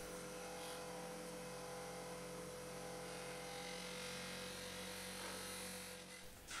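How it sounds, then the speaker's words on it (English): An aluminium treasure chest is pressed against a spinning buffing wheel in a workshop, giving a steady, loud motor whine and rubbing hiss that holds unbroken for several seconds before cutting off near the end. "let's go onto the buffing wheel"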